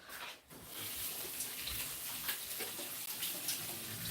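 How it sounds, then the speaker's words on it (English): Tap water runs steadily into a sink while hands are washed, a continuous close splashing hiss after a brief dip at the start. "I need to wash my hands."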